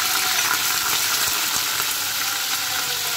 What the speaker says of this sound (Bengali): আজকে আমি করলা ভাজি করতেছি